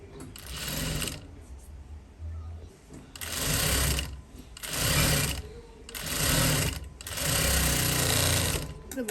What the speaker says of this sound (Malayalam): ഇനി ഇതിൻ്റെ മീതെ ഒന്ന് പതിച്ച് തയ്ക്കുക